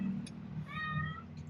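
A cat meows once, a short rising-falling call near the middle, over a low steady hum during an eating session.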